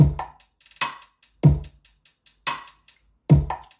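A punchy drum beat with hard, booming kick hits and crisp snare cracks, sparse and rhythmic, played alone with no other sounds.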